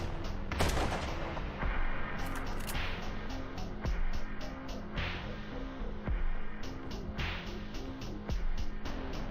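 A shotgun staff weapon fires repeatedly in a video game, sharp booming blasts in quick irregular bursts over a steady engine-like hum, with no talking.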